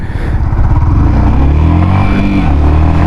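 A Yamaha XSR 155 motorcycle pulls hard in first gear, its engine note rising steadily in pitch, loud and close with constant wind rumble.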